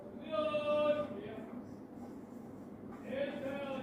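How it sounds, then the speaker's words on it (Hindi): Marker squeaks on a board in a maths class, two bursts of bright, scratchy strokes separated by a quieter stretch, close and moderately loud, with a little room noise. "पहले हम वर्ड्स में लिखते हैं"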